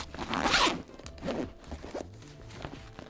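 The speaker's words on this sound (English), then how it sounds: "So you can see this compartment zips entirely open." A zipper pulls open the side compartment of an Alpaka Elements 35L travel backpack in one quick, loud rasp, followed by softer fabric handling and a couple of dull thumps, close up with no talk.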